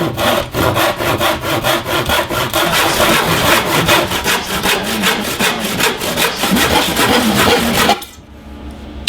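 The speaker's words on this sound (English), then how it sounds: "For the cut, I'll just be using a regular handsaw." An ordinary handsaw cuts through a wooden board in fast, steady back-and-forth strokes, loud and close, for about eight seconds before stopping abruptly.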